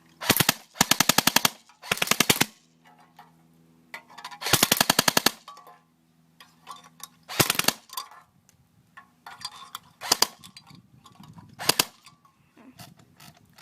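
An airsoft gun fires rapid full-auto bursts into a can, tearing it apart, with several sharp rattling strings separated by pauses, then scattered shorter bursts and mechanical clicks, close and crisp, no talking.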